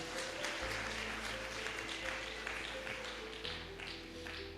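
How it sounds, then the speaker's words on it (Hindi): A church congregation claps during a sermon, a soft patter of scattered hands at a distance over a low sustained musical tone. "ताली नहीं बजाएंगे आप?"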